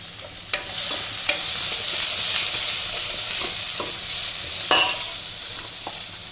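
Chopped onion and green garlic sizzle and hiss in a hot pan for Manchow soup, with a steady frying crackle broken by sharp clicks and scrapes of stirring, close up and loud with no talking.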